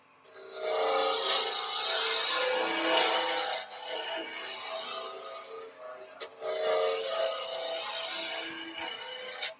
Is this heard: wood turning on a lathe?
yes